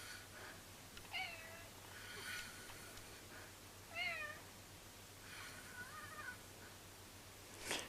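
A pet cat gives several faint, short meows spread across a quiet room, with a steady low hum underneath.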